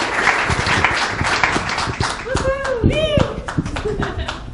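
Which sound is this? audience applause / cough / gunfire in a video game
audience applause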